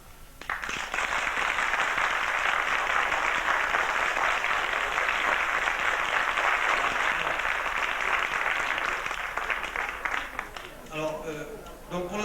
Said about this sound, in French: ce que je vous demanderais, c'est de les applaudir parce qu'ils ont tous préparé ça avec un cœur terrible